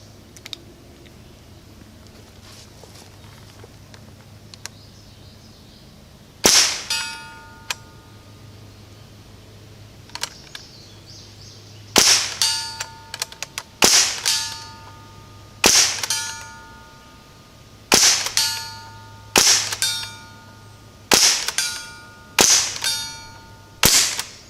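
An Umarex Ruger 10/22 air rifle fires Norma pellets at a target about 50 yards off: around ten sharp, separate cracks come in an uneven series, each followed by a brief ringing tail, with no voices.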